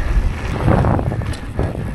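Gusty wind buffets the microphone with loud, rumbling low-frequency roar, continuous and uneven throughout the short stretch.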